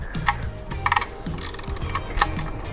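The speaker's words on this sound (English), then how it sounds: "we're gonna start tightening them down" A socket ratchet clicks in short bursts, tightening bolts on aluminum GB Racing engine covers of a Triumph Daytona 675R, with quick close pawl ticks and light shop noise between strokes.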